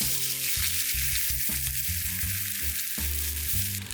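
Pork sizzles and fries loudly in a hot pan for tonkotsu ramen, a dense continuous crackle with no one speaking.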